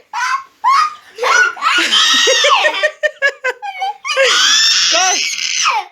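A young girl screams loudly and shrilly in repeated high-pitched bursts, mixed with giggles, up close indoors.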